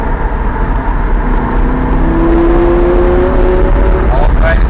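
A Lamborghini Gallardo accelerates on the ICAR racing circuit, its engine note rising steadily in a loud, close, continuous roar while an instructor speaks over it.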